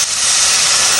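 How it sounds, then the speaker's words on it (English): Stock poured into a hot pan of curry bursts into a loud, dense hiss of steam and sizzle that holds steady and close for about a second. "I'm going to add the stock"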